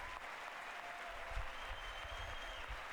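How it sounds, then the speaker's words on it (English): Sustained applause from a large audience at Biden's State of the Union address, a steady dense wash of clapping heard at a distance through the whole stretch with no talk over it. "Can't believe the Democrats are clapping to that."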